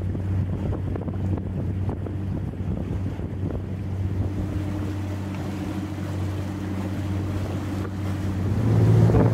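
An oyster boat's engine runs at full throttle at sea off the Île d'Oléron, a steady loud low drone with wind buffeting the microphone and water rushing past, swelling slightly louder near the end.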